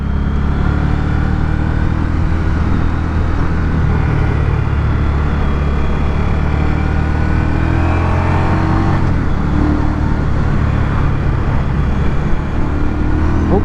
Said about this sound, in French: Ouh, gros frein moteur ici.